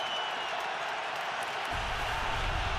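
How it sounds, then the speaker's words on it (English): Stadium crowd roaring at a 2018 NFL game, Kansas City Chiefs at New England Patriots, as a dense, continuous wall of noise that swells with a deeper rumble partway through. "Crowd roaring."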